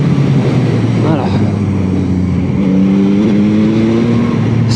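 Yamaha MT-09 (2021) motorcycle braking and then re-accelerating through a corner, its engine note sliding down and climbing again in steady loud tones, with a rider talking over the sound.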